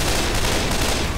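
Dense, continuous gunfire in Left 4 Dead 2's Blood Harvest warehouse survival map: a loud, unbroken rattle of rapid shots with no pauses, filling the whole moment.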